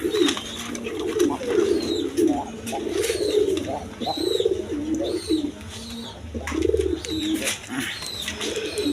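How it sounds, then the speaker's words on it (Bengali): A pair of Bombay pigeons coo loudly and close, with rhythmic, rolling phrases repeating throughout several seconds. "এখানে এক পেয়ার বোম্বাই কবুতর আছে দেখেন"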